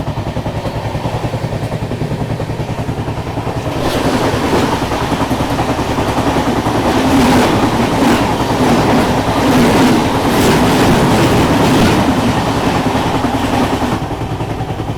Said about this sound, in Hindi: अभी सामने से आ रही है क्रॉसिंग के लिए फरक्का एक्सप्रेस।